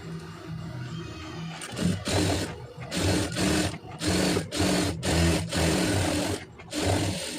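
A sewing machine stitches thread piping onto a garment sleeve, running in repeated loud bursts of rapid whirring with short pauses between them, close and alone with no talk.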